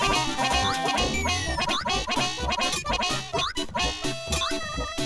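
Donald Duck quacks angrily in a Sega Genesis game, sputtering rapid, squawky bursts with choppy rhythm over busy, loud game music and effects.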